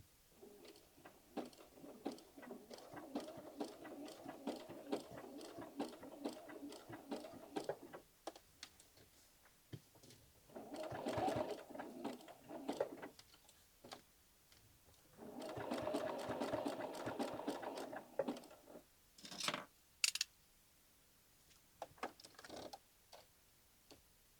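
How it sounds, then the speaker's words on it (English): A sewing machine satin-stitches appliqué eyebrows onto a denim jacket in several bursts of rapid, even needle chatter, each a few seconds long with short pauses between, close and fairly quiet with no talking. "We got a satin stitcher on some eyebrows too."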